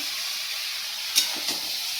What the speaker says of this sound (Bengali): আমি এটা ভালো করে কষে নিই